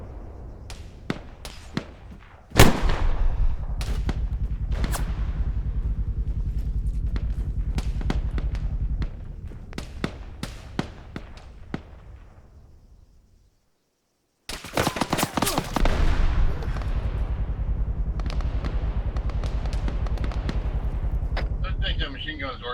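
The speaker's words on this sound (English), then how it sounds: "I don't think that machine gun is working anymore" Heavy machine gun fire in a military video game, sharp repeated bursts and single loud shots cracking out amid steady battle noise, with a brief silent gap before the din resumes; voices call out underneath.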